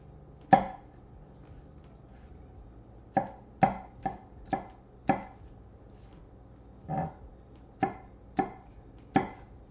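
Garlic chopped on a cutting board for a quick curry masala: about a dozen sharp knife chops in uneven bursts, close and clear, with no talking.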